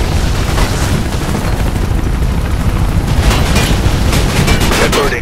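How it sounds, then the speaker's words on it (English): Dense, continuous gunfire rattles loudly through the whole stretch in Mirror's Edge, with bursts and booming shots layered over steady noise and no pause. "All that's happening right now is I'm being shot at."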